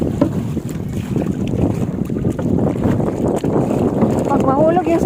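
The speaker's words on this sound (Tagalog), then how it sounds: "Sakay-sakay bangka." A bangka boat carrying a family on the water off San Juan, with a continuous motor drone and wind buffeting the microphone throughout while people talk aboard.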